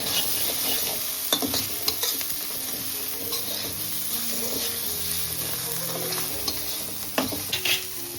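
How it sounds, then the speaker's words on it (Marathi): Spices sautéing in a pan for a rainy-season wild greens dish, a soft steady sizzle with scattered scraping stirs and utensil clicks, fairly quiet and close, with background music and no talk. "आपण मसाले पण परतून घ्यायचे"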